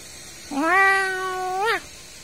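A cat gives a single clear, drawn-out meow with a rising start and falling end, close and loud against a quiet background.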